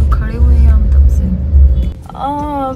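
Car moving slowly in heavy evening Pune traffic, a low rumbling engine close by, mostly masked by Hindi talk throughout.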